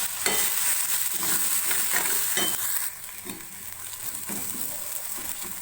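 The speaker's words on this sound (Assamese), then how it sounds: "এতিয়া মই এই মাছখিনি ইয়াত দি ভাজিম।" Dried fish sizzles and is stirred in a pan while being fried for a chutney, a close, steady crackling hiss with scraping strokes that eases a little halfway through.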